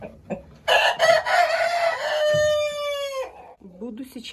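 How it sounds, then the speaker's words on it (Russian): A hen in a straw-lined henhouse nest clucks loudly while laying eggs, a run of sharp close cackles rising into a long drawn-out squawk, with a few soft clucks before and after. "Курочка несется."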